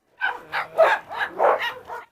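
A dog in a pack fed a heap of chicken legs barks in a quick series of about seven close, loud yaps, one after another with short gaps, and no talking over them.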